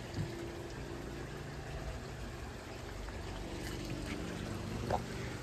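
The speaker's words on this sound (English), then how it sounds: "But for now, the grass is getting some water because it hasn't got water in 3 weeks." Water sprays steadily onto dry garden grass, a soft continuous hiss and patter that runs unbroken at moderate level with no talking.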